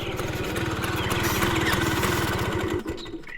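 A motorbike engine idling as the bike comes to a stop, a rapid rhythmic putter that is close and steady before dropping away near the end.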